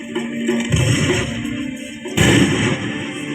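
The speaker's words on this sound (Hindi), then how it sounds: "पल भर में नॉर्थ पावर ने आजाद पर गोलियां बरसानी शुरू कर दी।" Gunfire effects from a light and sound show at Company Garden in Prayagraj crash out as rough, booming bursts, loud and reverberant, in two main waves with no speech over them.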